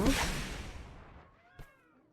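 A cat meows in the LEGO Harry Potter video game: one short, rising and falling meow near the end, after a fading rush of game noise.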